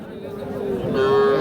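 Young calves at a busy cattle market, with a drawn-out low moo swelling near the end over a background of crowd chatter and murmuring voices.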